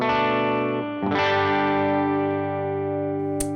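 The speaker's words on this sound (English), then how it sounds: "For reference, here's my clean tone again." Clean electric guitar strummed in sustained chords through a pedalboard with light reverb, two chord strikes ringing out steadily and up close with no talking.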